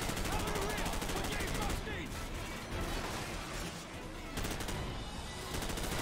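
Sustained battlefield gunfire in Call of Duty 4: Modern Warfare, a dense, continuous clatter of shots with a brief lull midway before the firing picks up again, loud throughout.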